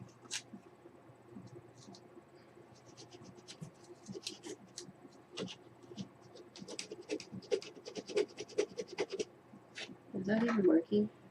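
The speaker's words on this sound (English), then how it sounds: "We'll see how it goes with the hand sander." Wood edges being hand sanded beside a mod podge picture, heard as soft scratchy, irregular rubbing strokes that grow busier and louder toward the end, close by, with a low background hum and people talking.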